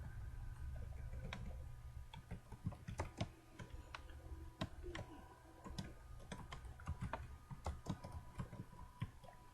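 Steady typing on a computer keyboard, entering a bullet line into presentation software, with irregular clicks and occasional sharper key strikes over a low hum, close and moderately quiet.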